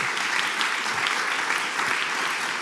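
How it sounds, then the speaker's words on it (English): Applause for a panel at an arts seminar on racial equity: steady, dense clapping from a full audience, even and sustained throughout with a faint voice or two under it. "Can I have a round of applause for the panel?"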